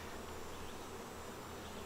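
Honey bees swarming over frames lifted from a hive during a colony split, a dense, steady close buzz that holds without a break.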